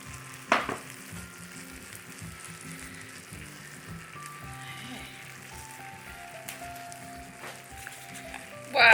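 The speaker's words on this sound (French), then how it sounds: "Je vais juste faire du pain grillé." Bread toasting in a pan on aluminum foil gives a steady low sizzle and crackle throughout, with a few sharper scraping or handling noises near the start and end.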